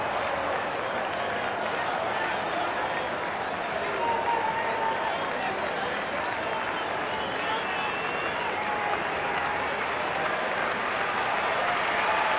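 A packed baseball stadium crowd during a tense MLB game cheers and applauds, a dense, continuous roar of clapping and voices holding steady at high volume, with faint commentary beneath it.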